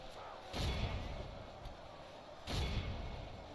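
Soldiers firing volleys in a Gondor campaign battle in a strategy video game, heard as two distant booming bursts about two seconds apart over a low battlefield rumble.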